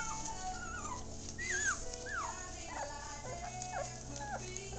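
Eight newborn puppies whimpering in a vinyl-lined whelping box, with repeated high, thin squeals and whines rising and falling over a low steady background hum.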